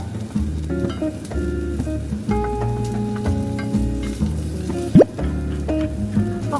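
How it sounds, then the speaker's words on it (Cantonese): Vegetables stir-fried in a stainless steel wok, with close sizzling and scraping stirs alongside metallic clinks, a steady busy kitchen texture and one sharp louder scrape near the end. "基本上備完料之後咧，煎咧係好快嘅，所有嘢分段咁樣擺入去炒埋一齊就係啦"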